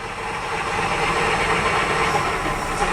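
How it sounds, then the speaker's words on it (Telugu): A battery-powered electric auto rickshaw motor runs on a vehicle trainer kit, giving a steady, continuous whirring rush at an even, moderately loud level throughout, with no voices. "మనకు బ్యాటరీ నుంచి మోటార్ రన్ అవుతుంది చూడండి"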